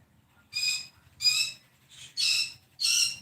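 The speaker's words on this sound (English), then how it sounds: "My birds would very much like my attention. I do apologize if they're a bit noisy." Pet birds indoors give four loud, shrill calls in quick succession, each a short harsh burst with brief silences between, close to the microphone with a faint low hum underneath.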